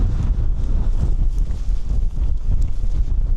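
Strong wind roars and buffets the microphone on the exposed summit of Moylussa, a steady, loud low rumble with gusting surges throughout and no voices.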